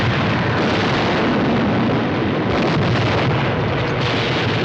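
A loud, sustained roaring explosion as the undersea city's dome bursts in a Voyage to the Bottom of the Sea TV episode, a dense rumbling blast that continues for several seconds with no talk.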